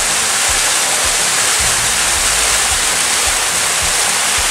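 Stream on the Mount Rose trail rushing steadily, a loud, close, broadband roar of running water with no breaks.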